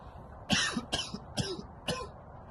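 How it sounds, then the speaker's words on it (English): Four sharp coughs in a row, close and fairly loud, evenly spaced over a couple of seconds against a quiet background. "Excuse me a second, I am going to cough."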